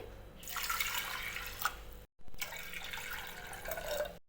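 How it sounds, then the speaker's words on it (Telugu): Water is poured onto washed toor dal in a steady, splashing stream, broken by one very short gap before the flow resumes. "ఇందులో ఒక కప్పు కందిపప్పు తీసుకున్నాం కదా దానికి రెండు కప్పుల వాటర్ని పోయాలి"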